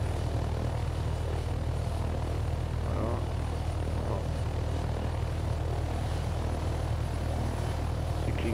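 Helicopter in a flight-training video game, a steady low engine and rotor drone that holds at an even, moderate level throughout, with no talk over it.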